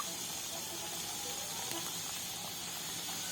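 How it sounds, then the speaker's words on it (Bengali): Leftover pieces of the crisp sweet snack murali fry in oil with a constant, even hiss that stays at a moderate level and does not change throughout. "আর যে কটি বাকি ছিল সবগুলো দিয়ে ঠিক একইভাবে ভেজে নেব"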